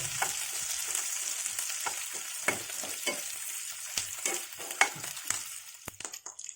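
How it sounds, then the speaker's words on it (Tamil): Turkey berry chutney ingredients fry in a pan over high flame, a close, hissing sizzle broken by repeated scraping stir strokes that fade toward the end. "இது லேசாக கிளறி விட்டுக்கலாம்"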